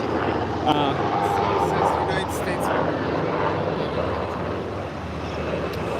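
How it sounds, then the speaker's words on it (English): Helicopters flying overhead at a heavily secured elite conference, a rumbling engine and rotor drone under close voices and street noise. "We got more helicopters here blocking the way here, as you can see, flying overhead right in front of us."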